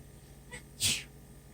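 A single sharp sneeze bursts out once, loud and close, preceded by a short faint intake of breath, with a quiet room around it.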